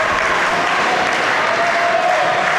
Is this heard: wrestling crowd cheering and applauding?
yes